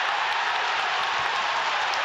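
A dense, steady roar of a large football crowd cheering a goal at a Championship match between Southampton and Huddersfield, loud and continuous, like a stadium full of cheering fans.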